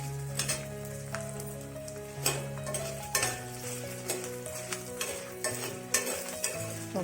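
Green chillies saute in oil for curry leaf chutney powder, soft continuous sizzling broken by repeated clinking stirs of a spoon against the pan.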